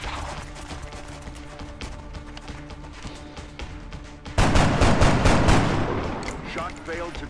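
Gunfire in the video game XCOM: a crackling, rattling backdrop gives way to a loud, dense burst of shots that slowly fades.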